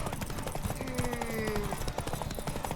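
Horse hooves clip-clop rapidly in The Witcher 3, a steady galloping patter layered over busy game sounds and a brief whinny-like tone, with voices talking around it.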